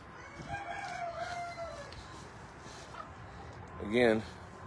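Hens cluck faintly in a backyard coop, with a short, louder rooster-like call near the end over quiet background noise.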